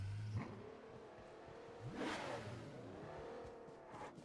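A car engine in PUBG Mobile revs and shifts pitch over a few seconds, rising and falling as the vehicle accelerates, moderately quiet and steady.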